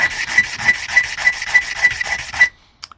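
A sanding block rubs back and forth on an MTS T3M RC car chassis in steady rasping strokes, about eight passes close to the mic, then stops abruptly, leaving near silence.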